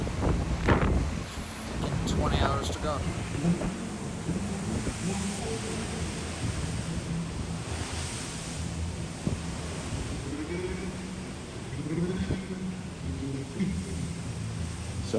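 Strong wind buffets a microphone on a ferry deck in the Bay of Biscay, a constant roaring rumble with sea noise beneath, while someone speaks briefly.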